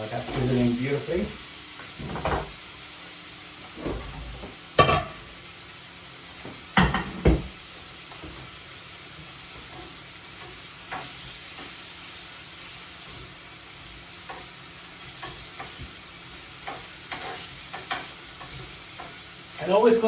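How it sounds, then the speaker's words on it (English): Food fries in hot oil in a pan over high heat, giving a steady, close sizzling hiss broken by louder clatters and scrapes as it is stirred. "That's sizzling beautifully."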